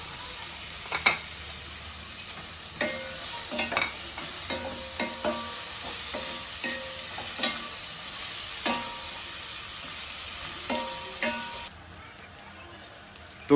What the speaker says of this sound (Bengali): আর এখানে পেঁয়াজটা ভেজে নিচ্ছে হালকা করে